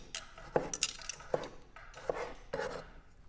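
A knife cuts slices of plum tomatoes on a board, four distinct chops at a steady, unhurried pace, close and quiet, with light scraping between cuts and no talk.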